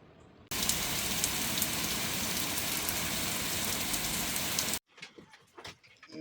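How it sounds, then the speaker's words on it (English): Florida rainstorm drumming on an RV roof: a dense, loud, steady hiss of rain that starts abruptly, continues for several seconds, then cuts to quieter scattered drips and thumps. "it's getting a nice little Florida rainstorm out there"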